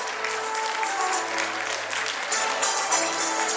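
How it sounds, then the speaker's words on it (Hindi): Loud, sustained applause from a large audience at a Women's Day event, a thick continuous roar of clapping with some crowd murmur and a faint low hum beneath. "सबसे जोर से तालियां बजाइए।"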